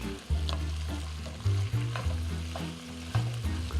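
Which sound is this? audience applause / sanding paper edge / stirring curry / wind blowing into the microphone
stirring curry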